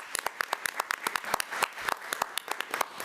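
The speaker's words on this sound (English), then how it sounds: "Let's give her another round of applause." Applause for a teacher at a school committee meeting, a modest scattering of hands with distinct individual claps standing out, steady for the length of the clip without voices.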